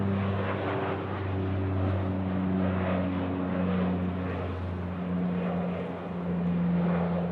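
Steady propeller drone from a Saab 340 turboprop at Sydney Airport, a loud sustained hum with layered engine tones holding throughout.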